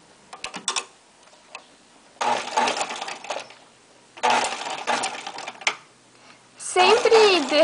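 A sewing machine stitches a seam on shorts or pajamas, reversing to backstitch, running in several separate bursts of rapid mechanical ticking and whirring with short pauses between, close by.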